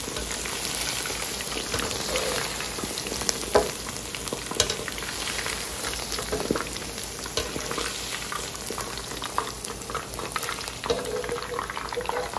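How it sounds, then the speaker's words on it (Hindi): Small pieces of chicken 65 deep-frying in oil, a dense, loud, steady crackling sizzle with scattered pops throughout, no talking. "और मैं ये अब सारे फ्राई करती हूँ।"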